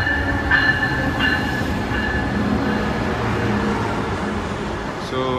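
Brightline passenger train in Florida, a steady rumbling rail hum with faint tonal whine throughout, close and continuous, with a brief higher screech near the end.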